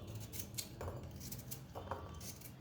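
A knife cuts peeled carrot into small pieces, a faint series of irregular crisp clicks and chops at close range, with no talking.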